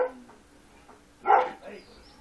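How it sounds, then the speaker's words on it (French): A single dog bark comes in from outside through an open window, fairly near and clear against a quiet room. A fainter trailing sound follows it, with soft background noise throughout. "vous entendez mon chien japper parce que ma vitre est ouverte"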